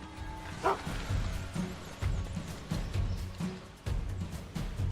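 A dog in the Final Fantasy VII Rebirth video game gives a run of short barks and yips at a steady rhythm, fairly close and moderately loud, with no talk over them.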